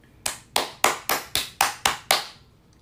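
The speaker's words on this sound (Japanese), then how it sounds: "拍手の音がでかいっていう。" Eight loud, sharp hand claps ring out one by one at an even, unhurried pace, close and dry with short decays, with no talking over them.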